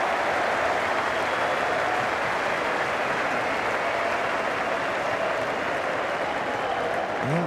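A large crowd applauds at the 1998 Ashes Test match at the MCG in Melbourne, a steady, dense wash of clapping that holds at an even level throughout.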